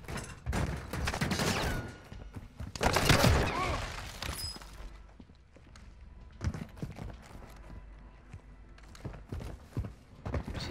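Light machine gun fire in Call of Duty Warzone 2.0, heard as a dense rattling burst early on, followed by scattered shots, footsteps and movement sounds in the game.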